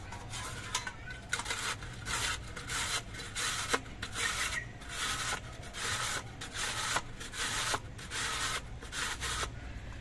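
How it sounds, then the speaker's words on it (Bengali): Raw papaya is grated on the medium holes of a hand grater, a close, loud, rhythmic rasping with even back-and-forth strokes that repeat steadily throughout. "এবার এই পেঁপেগুলোকে আমি একটা ঘষনি নিয়েছি ঘষনির যে মাঝারি সাইজের ছিদ্রগুলো আছে সেই ছিদ্রটা দিয়ে আমি ঘষে নিচ্ছি"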